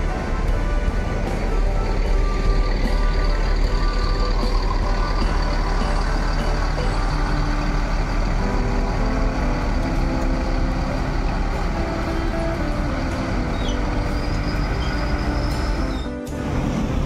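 A Kumarang Jaya bus rolls past with a loud, steady engine drone and road rumble, joined by a high tonal whine and brief beeps, close and continuous for most of the stretch.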